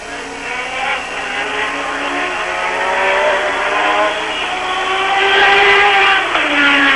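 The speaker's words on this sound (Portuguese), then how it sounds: "Aí você vai tendo o carro de Nigel Mansell." A 1986 Formula 1 race car engine screams loud and close as it passes during the German Grand Prix, its high-pitched whine rising then dropping sharply at the end as it goes by, with no voices over it.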